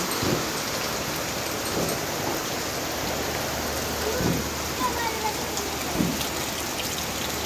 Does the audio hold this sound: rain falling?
yes